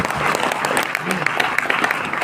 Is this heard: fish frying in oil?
no